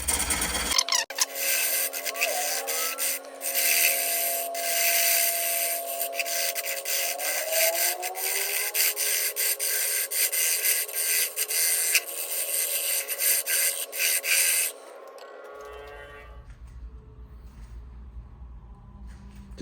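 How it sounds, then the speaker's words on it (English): A wood lathe spins a segmented bowl turned from scrap and pallet wood on a jam chuck at about 550 RPM, giving a loud, steady rasping cut with a sustained whine, then it drops away as the tool lifts near the end. "I've got this on a jam chuck spinning at about 550 RPM."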